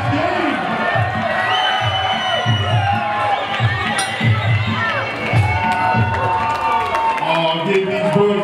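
Loud crowd at a Muay Thai fight in Toronto cheers, whoops and claps continuously in a dense, roaring wash, with an announcer's amplified voice talking over it.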